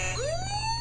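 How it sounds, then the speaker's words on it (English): A short electronic siren tone from a Hess toy fire truck sweeps upward and holds, thin and bright like a small toy's speaker. "2 siren noises and a horn noise"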